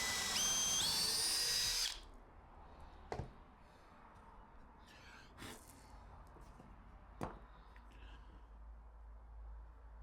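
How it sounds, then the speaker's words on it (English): A power drill drives screws through pilot holes into wood while building a woodworking jig, one loud burst of about two seconds near the start, then quiet with a few faint knocks. "Just using pilot hole and screwing it down."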